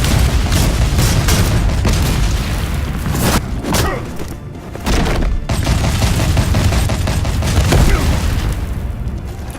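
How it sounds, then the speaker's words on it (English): Explosive machine-gun fire in the game Batman: The Telltale Series rolls on as a loud, dense barrage of rapid shots and booming blasts, briefly easing midway before pounding on again. "Murphy really likes his explosive machine guns"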